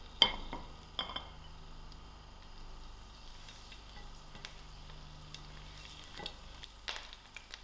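Dry chilies, thyme and curry leaf fry in a pan for chicken necks: a faint, low sizzle with a few sharp clinks of a utensil against the pan.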